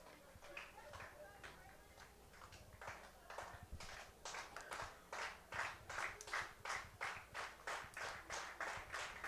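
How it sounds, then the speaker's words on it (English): A baseball crowd at a Terre Haute Rex game claps in unison, starting loose and building into a strong, steady rhythmic beat of about two claps per second, with a play-by-play announcer talking over it. "Crowd clapping in unison, expecting the 3rd Rex win of the season"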